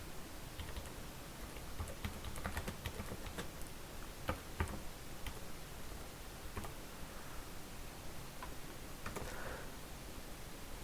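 Someone types Python code on a computer keyboard, giving scattered, faint key clicks and taps at an uneven rhythm over a steady background hiss, with no talking.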